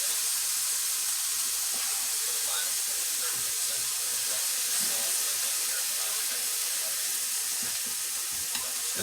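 Vegetables sauteing in a pan for homemade meatloaf, a steady, even sizzle that carries on unbroken throughout with faint clinks, while someone speaks over it.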